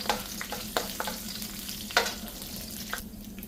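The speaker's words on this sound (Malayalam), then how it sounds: "ഇളക്കി കൊടുക്കാം." Chillies, dried red chillies and roasted gram stirred as they fry in a pan, giving a soft steady sizzle broken by a few sharp scrapes and clinks of the spoon against the pan, close and fairly quiet with no talking.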